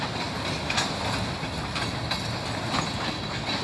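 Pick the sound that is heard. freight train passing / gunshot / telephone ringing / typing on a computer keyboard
freight train passing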